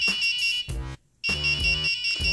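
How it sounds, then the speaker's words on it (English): A loud, piercing Arduino motion-alarm buzzer sounds close by in shrill bursts, cutting out briefly once before blaring again. "the light will flash and the buzzer will go off"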